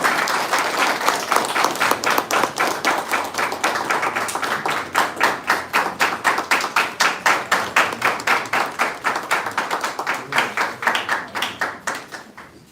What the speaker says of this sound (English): So, a big round of applause, ladies and gentlemen.